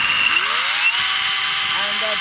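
A KINGSON 43.2V cordless chainsaw runs at a steady, loud, continuous motor whine close by, holding an even pitch throughout.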